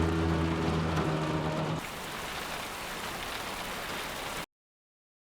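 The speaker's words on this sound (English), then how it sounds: "And it's raining, so it's washing it away." Rain falling in a scene from the TV series Dark, a steady soft hiss of rain that first sits under a low droning musical tone, then continues alone before cutting abruptly to silence.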